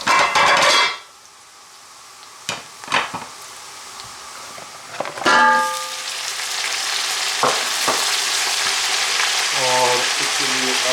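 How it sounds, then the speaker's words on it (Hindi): Chicken pieces added to light-brown onions in hot oil for painda, made from frozen home-grown chicken: a loud initial sizzle burst settles into steady frying hiss, punctuated by sharp utensil clanks and stirring scrapes against the pan. "अब इसमें हम चिकन डाल देंगे।"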